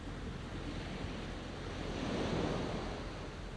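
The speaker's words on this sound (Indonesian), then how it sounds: "Lihat ombak di sana. Tidak bosan-bosan menepis pantai sepanjang zaman." Ocean waves wash against a shore in a steady broad roar with some wind, swelling slightly toward the middle and continuing unbroken.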